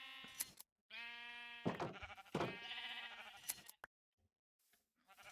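Sheep bleat while being sheared in a farming game, several clear wavering baas in quick succession with short gaps and silent breaks between them.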